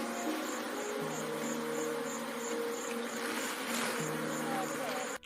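A dense swarm of bees drones continuously in a steady, loud buzz with layered humming tones around a man who commands the bees in East Africa, no speech over the sound.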